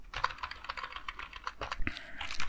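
Typing on a computer keyboard while setting up a login text field, a rapid run of close, crisp key clicks with uneven rhythm and a heavier thunk near the end, no talk.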